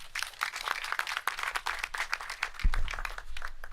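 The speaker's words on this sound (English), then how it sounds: "So let's all give Rajkumar Singh a round of applause." Sustained audience applause at a community safety address: dense, steady clapping from a crowd that keeps going evenly throughout.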